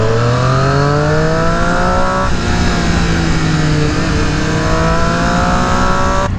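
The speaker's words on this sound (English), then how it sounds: "this bike makes one of the best intake sounds I've heard to date" A 2018 Triumph Street Triple RS motorcycle being ridden, its engine and intake roaring loudly and steadily, pitch climbing through gears with a brief shift dip, heavy wind rush throughout and no talking.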